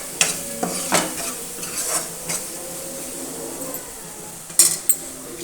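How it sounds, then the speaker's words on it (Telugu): A spoon stirs Uggani, a Rayalaseema puffed rice dish, in a sizzling pan at close range, with repeated scraping and clinking strokes over a steady frying hiss and no voices. "2 నిమిషాల తర్వాత ఒకసారి బాగా మిక్స్ చేసేసుకొని"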